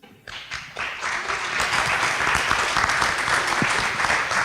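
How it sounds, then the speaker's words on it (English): An audience at a panel discussion breaks into applause, the clapping swelling quickly and then holding at a steady, full level. "Please give our panelists a round of applause."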